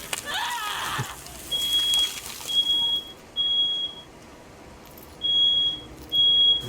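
Smoke alarm going off during a Tiny Tina's Wonderlands game session, giving repeated high-pitched electronic beeps in short bursts separated by brief gaps, with faint game sounds underneath.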